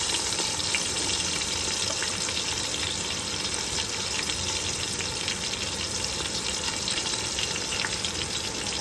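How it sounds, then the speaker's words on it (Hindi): Tomato, chili and onion frying in hot ghee, a dense, steady, loud sizzle that stays constant throughout, heard up close with no talking over it. "घी गर्म हो चुका है, इसमें जो है हम मसाले ऐड कर रहे हैं। टमाटर, मिर्च और प्याज ऐड कर दिया है।"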